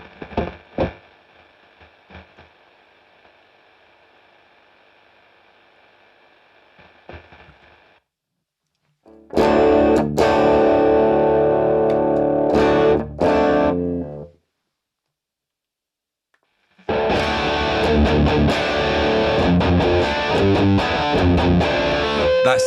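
An electric guitar runs through a Victory V4 Sheriff preamp on high gain. A few picked hits decay into a steady hiss, then two loud, thick, distorted riffs play, separated by a moment of silence.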